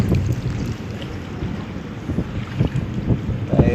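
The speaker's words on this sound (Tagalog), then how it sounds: "sobrang lakas ng hangin doon sa taas eh" Strong wind buffets the microphone outdoors during a fishing trip in Doha, a continuous low rumbling roar with uneven gusts that swell louder toward the end.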